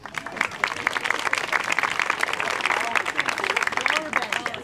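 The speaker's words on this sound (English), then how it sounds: "let's give her a big round of applause" Wedding guests applaud as the groom's sister comes up for a speech: lively, crisp individual claps close by over a full crowd of clapping, with some voices underneath.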